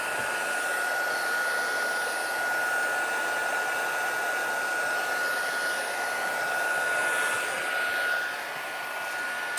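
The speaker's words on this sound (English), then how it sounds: "I'm just heat embossing the background." A heat embossing tool blows hot air onto a card background during floral die-cutting craft work, producing a steady, loud, close whooshing roar that runs unbroken with no talk.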